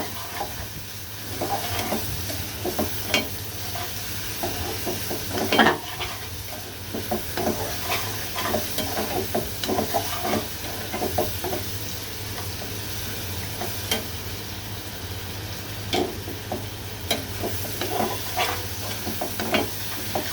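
Prawns coated with turmeric fry in oil with a long, even sizzle, a low steady hum beneath it and frequent crackles and stirring scrapes, with no voices.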